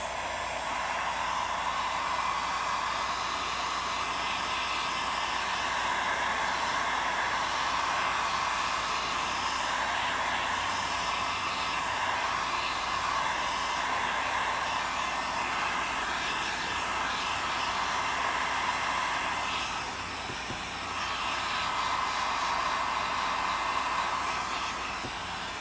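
A hair dryer blows steadily on textured paint for an aged finish, a loud, close, continuous whooshing roar with one brief dip near the end and no talk.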